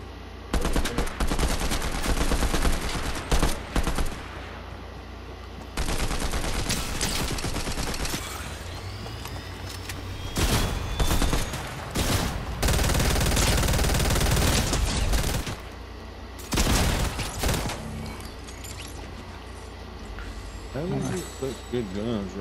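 Bursts of video game gunfire in a Fortnite Zero Build duo match, repeated rapid volleys and single shots coming in loud clusters with gaps between them, mixed with game sounds.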